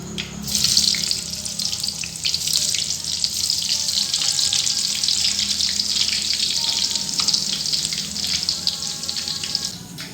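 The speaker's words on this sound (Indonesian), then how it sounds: "kita goreng bawang putih." Continuous loud hissing sizzle of garlic frying in hot oil, steady throughout with no voices.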